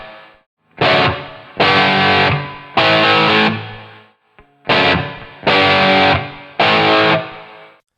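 Heavily distorted electric guitar in a hard rock style, with room reverb adding depth, plays six loud, separate chord strums, three and then three, each ringing out before a short gap, with no voices.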